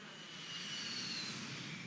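Continuous roar of a B-52 bomber's engines passing overhead in Civilization VI, a steady broadband drone at moderate distance with no voices.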